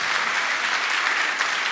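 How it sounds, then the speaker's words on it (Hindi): Dense, steady applause from an audience, many hands clapping continuously at close range with no pauses. "इनके तालियां तालियां तालियां"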